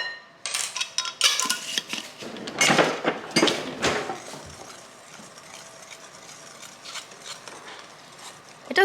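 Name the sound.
sifting baking powder through a sieve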